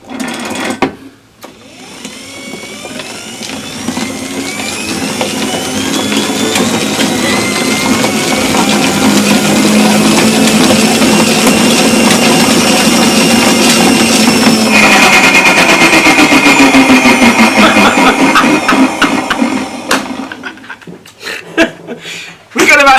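Electric motor used as a wind turbine generator spun up by hand, a rising whirring hum that builds over several seconds, holds loud and steady, then winds down, with some chuckling and brief talk around it.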